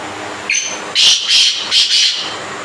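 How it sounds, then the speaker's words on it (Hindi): Sindhi partridges calling nearby, a short rising note followed by a run of loud, shrill, rhythmic bursts repeating in quick succession. "बड़े तितर के साथ लाग के बोल रहे हैं।"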